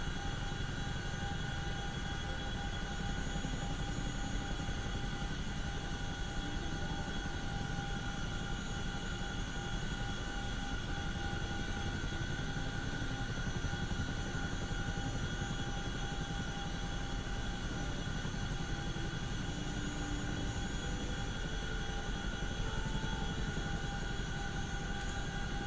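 A steady, continuous aircraft engine drone with tonal whine from a flight simulator game while taxiing, loud and unbroken throughout with no talk.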